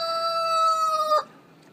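Backyard rooster crowing once, a loud, sustained harmonic call that cuts off sharply near the end, leaving quiet background hum.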